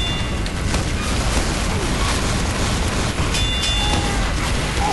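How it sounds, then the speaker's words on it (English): Grenades exploding in Team Fortress 2 during a chaotic firefight, a dense continuous roar of booming blasts and rumbling noise filling the whole stretch at high loudness. "Incoming grenades"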